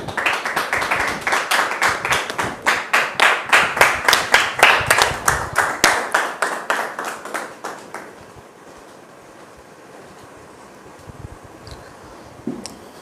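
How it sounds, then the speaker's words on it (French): An audience claps in a lively, rhythmic burst that rises and then fades out over several seconds, leaving a quiet room with a few stray sounds. "Merci de la recevoir sous vos applaudissements."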